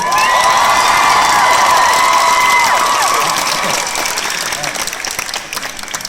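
A premiere Q&A audience applauds and cheers loudly, with whoops and shouting voices over sustained clapping that gradually thins toward the end.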